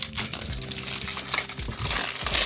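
Thin plastic packaging around a cheap e-rig is torn and crinkled by hand in a quick run of crackling rips and rustles, close and moderately loud, with no talk.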